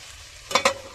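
Okra and potato curry cooks in a covered pan, a soft steady sizzle with two brief louder bursts of lid or stirring noise near the middle.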